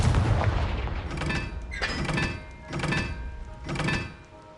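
Confringo spell impacts from the video game Hogwarts Legacy boom three times in a steady rhythm, each a muffled, punchy explosion with a short rumbling tail, over a low background.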